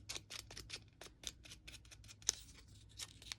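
Scissors snipping at the edges of a photograph to make it look worn and distressed: a rapid run of short, crisp blade clicks and cuts, close and quiet, with one sharper snap partway through.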